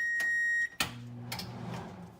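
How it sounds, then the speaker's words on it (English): An electronic kitchen oven timer beeps steadily with a bright, high pitch that cuts off abruptly partway through, after which a clatter and some low kitchen noise follow. "oh, and there goes the timer."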